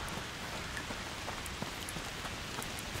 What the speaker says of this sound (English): literally, the rain is pissing it down out here, and it is pissing it down on here